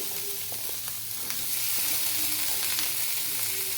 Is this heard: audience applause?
no